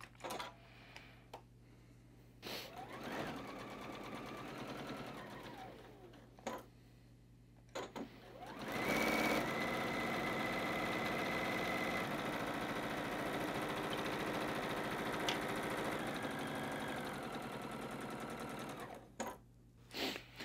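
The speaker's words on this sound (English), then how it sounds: "I'm just going to slide them right over to the sewing machine." A sewing machine fitted with a quarter-inch foot and edge guide stitches fabric layers in several bursts, a short run early on and a long steady whir in the middle, with quiet handling noises between.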